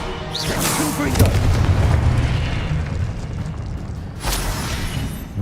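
Confringo blasting spell in Hogwarts Legacy: a deep, booming explosion rumbles through the middle of the clip, with a sharp burst near the start, another near the end and game effects around them.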